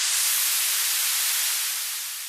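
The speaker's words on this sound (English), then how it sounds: "Let's look for white noise. It must have something, right? White noise fill." White noise fill transition sample: a steady, bright hiss of broadband static that holds for about two seconds and tapers slightly at the end, heard alone.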